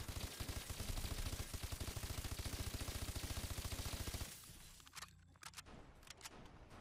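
A BAL-27 rifle fires in Call of Duty: Advanced Warfare, a loud rapid burst of evenly spaced shots lasting about four seconds, then a few scattered single clicks and shots afterward.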